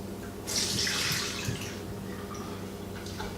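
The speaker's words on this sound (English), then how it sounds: "on the olives, you want to pour all the juice out" Olive brine poured from a glass jar into a sink, a splashing liquid rush that swells loudly for about a second and then settles into a steady trickling stream.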